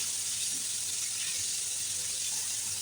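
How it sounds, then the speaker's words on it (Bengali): Pangas fish pieces frying in hot oil until crisp, giving a steady, even sizzling hiss that continues without a break, with no talking. "মাছগুলো উল্টিয়ে দিয়েছি একদম কড়া কড়া করে ভেজে নেবো"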